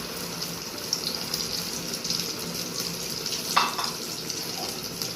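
An egg frying in hot oil in a wok gives a steady, soft sizzle with faint crackles throughout, heard close up and alone with no voices.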